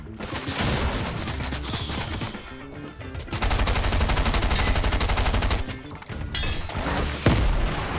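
Rapid gunfire bursts in the Fortnite video game, loud, dense and repeated with short gaps between volleys, mixed with booms and impacts and little talk.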